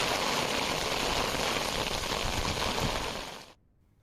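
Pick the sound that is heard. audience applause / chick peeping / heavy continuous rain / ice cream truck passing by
heavy continuous rain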